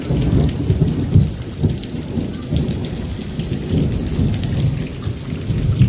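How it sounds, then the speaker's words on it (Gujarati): Heavy rain pours steadily while thunder rumbles low and deep in rolling waves, loud and close, with no voices. "કડાકા ભડાક ઓહ કેવો ગાજે તો વરસાદ"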